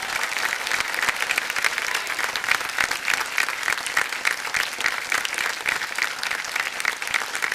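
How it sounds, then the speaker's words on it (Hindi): Studio audience on the Kaun Banega Crorepati quiz show bursts into sustained, dense applause, a steady wash of many clapping hands at an even level throughout. "जोरदार तालियां बज जाए इनके लिए।"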